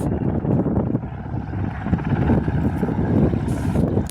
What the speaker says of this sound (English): Another Cessna C172 taxiing out for takeoff